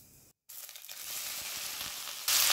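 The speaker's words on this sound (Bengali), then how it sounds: "এবার সেদ্ধ করে রাখা আলুটা এর মধ্যে দিয়ে দেব।" Boiled potatoes dropped into hot oil with dry red chillies and nigella seeds, a brief quiet gap and then a dense, rising crackle and sizzle close up, growing louder at the end with no voices.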